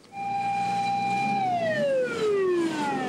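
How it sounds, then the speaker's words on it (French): Emergency vehicle sirens in a town in Corsica, a loud steady wail that then slides downward in pitch, clear and alone with no talking. "Cet après-midi-là, des sirènes sortent les habitants de leur sieste."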